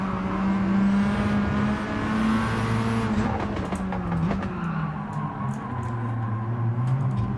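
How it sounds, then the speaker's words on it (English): Engine of a big-turbo, roughly 700-horsepower car in Gran Turismo 7, dropping pitch through downshifts as it slows, with stepped revs, brief blips and a faint tire squeal, loud and close throughout. "It does make nice noises on the downshifts and slowing down."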